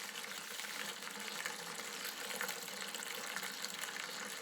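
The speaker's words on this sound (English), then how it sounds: "I'm just pumping back through the hop spider, filter any last bits out of it, pumping it out into the Gudum fermenter" Beer wort for a Harlequin pale ale is pumped back through a hop spider into a conical fermenter, giving a continuous, even hiss and splash of flowing liquid at close range, with no talking.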